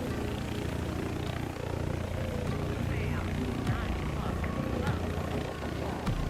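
A helicopter in the War Thunder video game drones steadily with its rotor and engine hum throughout, loud and continuous, while people talk over it.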